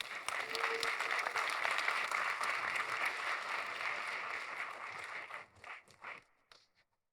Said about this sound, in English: Big round of applause for Juan.